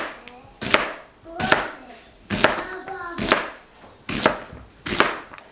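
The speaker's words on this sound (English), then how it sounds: "I'm cutting those onions." Knife chopping onions on a kitchen counter, seven sharp, loud, evenly spaced thuds of the blade against the board, with faint handling noise between strokes.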